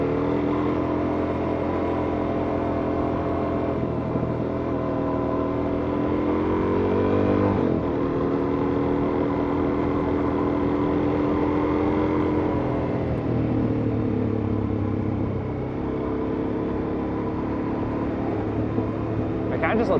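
A motorcycle engine drones steadily while riding a mountain road, its pitch rising and falling with throttle changes, heard close and continuous under wind noise.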